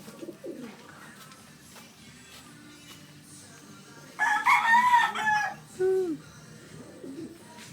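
Roosters crow outdoors, with one loud crow ringing out midway and a shorter call following close behind, over a quiet background with faint voices.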